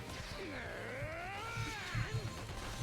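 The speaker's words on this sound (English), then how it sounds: "I got a cat wanting to play" A pet cat that wants to play meows several times in rising and falling drawn-out tones, close by, with a few soft knocks underneath.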